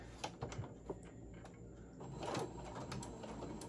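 A sewing machine stitches a large fabric scrunchie in short, rapid whirring bursts with brief pauses between runs, fairly quiet and close, without any talk.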